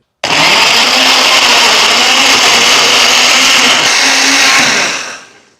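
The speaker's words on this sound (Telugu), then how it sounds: "ఇప్పుడు దీన్ని మూత పెట్టేసి దీన్ని బ్లెండ్ చేసేసుకోవడమే" A blender whirs loudly and steadily for about five seconds, mixing a milkshake of ice cream scoops and a quarter cup of milk, then winds down and stops.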